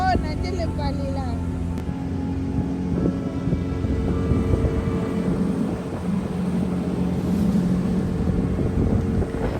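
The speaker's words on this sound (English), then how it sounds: "It's exciting driving a speedboat, I should say." A 115 horsepower speedboat running on the Chobe River, a steady engine drone with wind buffeting the microphone throughout, with voices talking over it.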